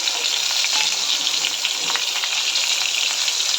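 Stuffed bitter gourds sauté in a pan over low heat, giving a steady, bright sizzle with light crackling that carries evenly throughout, heard alone.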